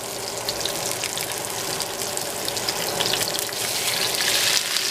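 Salmon fillets frying in a pan just after being turned, giving a dense, continuous sizzle and crackle that holds steady and builds slightly toward the end.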